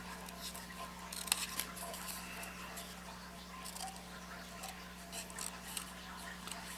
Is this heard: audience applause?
no